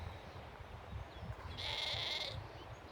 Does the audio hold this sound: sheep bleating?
yes